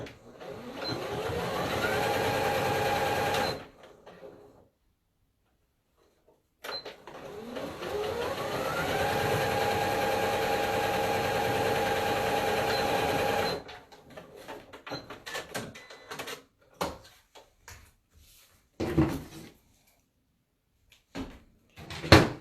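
A sewing machine stitches a fabric headband in two steady whirring runs, the first about three seconds and the second about seven, separated by a pause, followed by scattered clicks and fabric handling.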